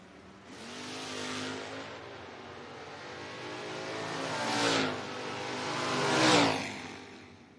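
Drag racing cars, including a 1972-body Camaro, rev and accelerate down a footbrake drag strip, with loud engine roars rising in three surges and passes sweeping by.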